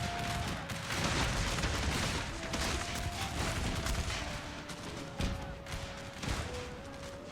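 Dense battlefield gunfire and artillery from a Battle of the Bulge war video game, with steady overlapping shots and booms, loud and continuous throughout with no clear talk.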